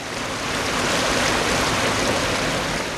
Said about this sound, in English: This is one of the tertiary drains discharging grey water into sewer stream.